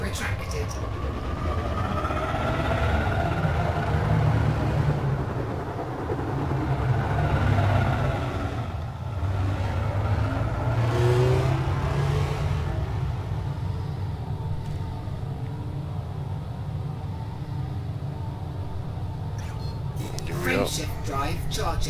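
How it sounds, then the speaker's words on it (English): Spaceship engines in Elite: Dangerous hum and rumble steadily after launch, a low droning roar with slowly shifting pitch, while a voice talks over it and a brief sharper noise arrives near the end. "Ship released. Engines engaged."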